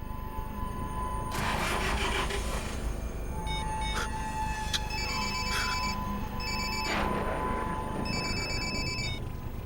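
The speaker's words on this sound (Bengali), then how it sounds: "রমেশ ফোনটা তুলছে না কেন?" An unanswered telephone rings with faint repeating electronic beeps over a dense, noisy background wash, with a few soft thuds, no one speaking.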